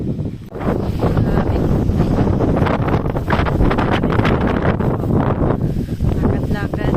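Strong wind buffets the microphone in loud, continuous rumbling gusts outdoors while someone walks, with muffled voices faintly underneath.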